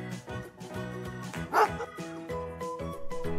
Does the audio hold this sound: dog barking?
yes